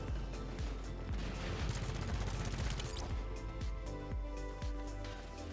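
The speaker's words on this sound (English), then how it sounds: "the weapon that I have at number 4 is Jorge's Chaingun turret" Jorge's Chaingun turret in Halo 5 fires in a steady, loud rapid stream of shots, with periodic heavier booms cutting through the sustained gunfire.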